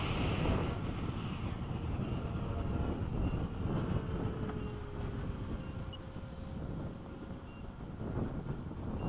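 Lockheed F-104 jet on a high-speed low pass: a rumbling, broadband jet roar fills the clip steadily, with a faint rising-falling whine sweeping through the middle.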